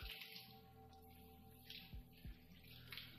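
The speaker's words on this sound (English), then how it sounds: "Now I hear the sound of water running." Water running in a bathtub within the game Steins;Gate Elite, a faint soft trickle with a few quiet drips and low thuds, heard alone.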